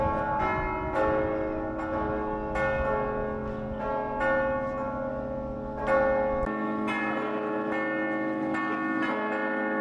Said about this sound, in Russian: звонарь в церкви начал звонить в колокола